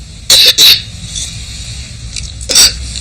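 A young girl with asthma coughs close up, three sharp harsh bursts, two in quick succession and a third after a pause, over quiet room tone.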